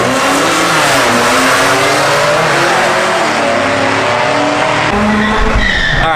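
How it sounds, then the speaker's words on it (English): A car drifts at a drifting event, its engine revving hard with loud, continuous tire squeal and skidding close by, the pitch rising and falling as the throttle is worked. "Event for drifting."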